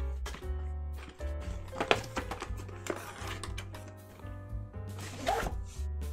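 A zipper on the carrying case of a GoPro Hero 9 Black camera is pulled open in a few quick, close raspy bursts over a steady background hum.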